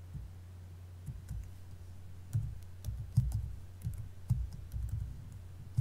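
Buttons on a TI-30XS calculator are pressed in a quick series of soft, close clicks and taps, irregularly spaced, with a low background hum and no talk.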